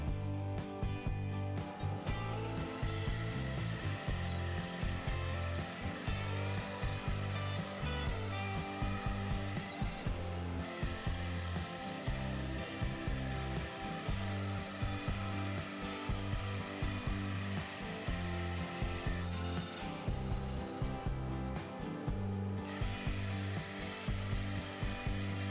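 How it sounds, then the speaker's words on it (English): A bandsaw cuts through wood bowl blanks with a steady, loud, close motor hum and grinding blade noise that continues without pause, its rasp shifting slightly as the cut progresses, with no talking. "I'm going to take it to the bandsaw, cut down on those lines"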